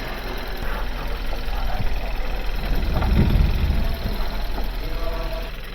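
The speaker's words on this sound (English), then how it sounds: "Just gonna go ahead and shut off the engine." A Kia Soul engine idles steadily nearby with a low, continuous rumble and faint vibration, and a brief swell of heavier low-end noise partway through, with no voices.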